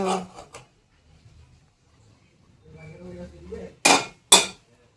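Metal plates clink in two sharp, close knocks near the end while hot rice is served for an everyday home lunch, following soft clatter and someone speaking beforehand.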